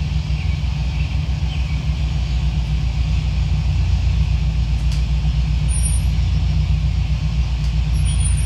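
Aircraft engine in the Prepar3D flight simulator during taxi, a loud steady low rumble holding constant throughout, with no voices over it.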